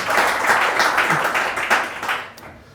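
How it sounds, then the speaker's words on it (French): Audience applause at a French interview event with a band leader, a dense steady wash of many hands clapping close by that carries on for nearly three seconds before thinning out at the end. "donc, applaudissements"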